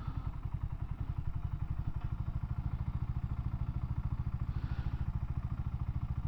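A BSA 650 Scrambler motorcycle engine idles close by with a rapid, even thumping pulse, holding a steady rhythm as it warms up.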